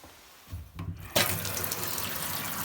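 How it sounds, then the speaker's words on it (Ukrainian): A kitchen tap opens and water gushes steadily into a sink, a loud continuous splashing hiss that starts abruptly and keeps flowing. "Вода тече,"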